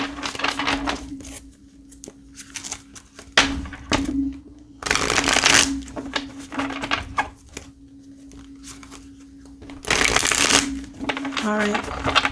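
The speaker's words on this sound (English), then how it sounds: "I'm going to give it a shuffle." Light Seers Tarot deck being shuffled, with bursts of riffling card flutter and soft slaps repeating through the clip under a steady low hum, while a person talks between shuffles.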